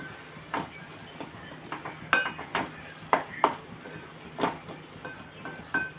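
A spoon scrapes and knocks against a pan of simmering tomato curry, irregular close clinks and taps over a low steady bubbling background.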